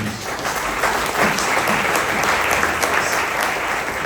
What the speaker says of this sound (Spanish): Dele un aplauso, papito Dios.